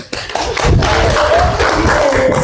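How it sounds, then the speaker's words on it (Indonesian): A classroom of students claps hands together, a dense patter of claps lasting a couple of seconds, with a voice or tone threading through the middle. "Tepuk tangan"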